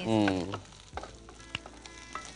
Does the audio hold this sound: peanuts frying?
yes